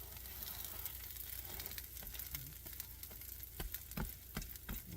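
A pepperoni overstuffed omelette sizzles steadily in a frying pan just after being flipped, a continuous close crackle with scattered sharper pops and light scraping.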